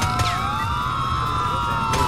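A police car siren from the GTA video game plays as a loud, steady electronic tone with a brief wavering rise near the start, continuous throughout with no talk over it.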